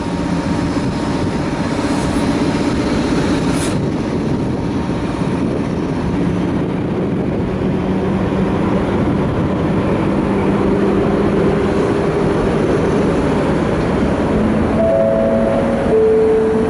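At Skierniewice railway station, a train rolls through with a loud, continuous rumble and steady roar that persists throughout, with a faint tonal whine near the end.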